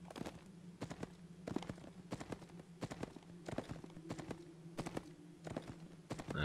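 Horse hooves clip-clop steadily in the video game Fallen Earth as a mount trots along, a regular rhythm of sharp, fairly close hoof strikes over a low constant hum.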